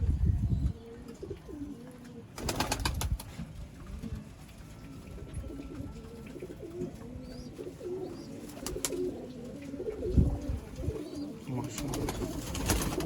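Pigeons coo repeatedly in low, rolling calls amid a noisy outdoor background, with occasional louder bursts of rustling, at a pigeon market in Sialkot.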